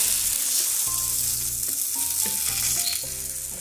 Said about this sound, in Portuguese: Fritar um lado e volta fritando o outro.